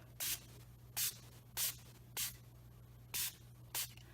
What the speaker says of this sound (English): Here I have a little spray bottle. And I'm going to mist from about 18 inches away.